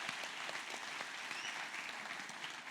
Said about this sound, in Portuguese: Mais uma salva de palmas para essa liderança maravilhosa.